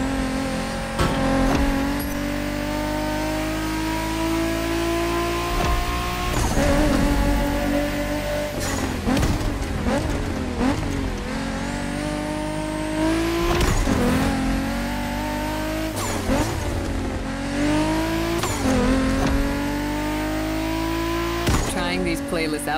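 Japanese cars race in The Crew Motorfest, engines droning loud and close with repeated rising revs and gear shifts, a few tire squeals breaking through, while a voice talks over the action.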